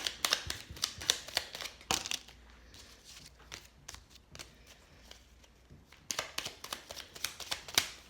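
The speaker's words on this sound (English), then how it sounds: "Let's pull a few more cards." Tarot cards being shuffled and pulled from the deck, giving dense papery riffles and flicks that come in close bursts at the start and end, with softer card handling in between and no talking.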